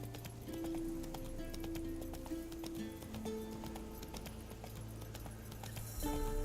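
Roach the horse trots in The Witcher 3, hooves clip-clopping in a steady rhythm throughout, close and clear beneath continuous game music.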